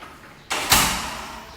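An apartment building's key-card-operated door opening with a short mechanical clunk, then a louder thud as it shuts, close by and with no talking.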